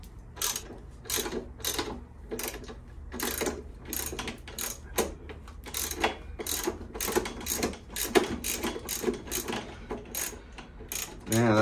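A 9/16 wrench works a rusted acorn nut loose on a 2013 Harley-Davidson Softail, giving a long run of sharp, irregular metallic clicks and ratcheting scrapes up close.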